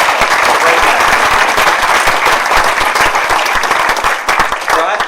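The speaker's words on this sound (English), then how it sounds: "how about a round of applause for all the staff here at the Clark City" An evening award ceremony crowd claps in a dense, crisp round of applause for the venue staff, with many sharp individual claps close together and loud throughout.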